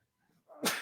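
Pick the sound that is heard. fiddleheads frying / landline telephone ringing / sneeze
sneeze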